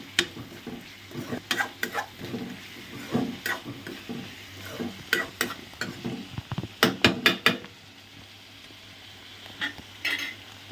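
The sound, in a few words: stirring onions frying in a pan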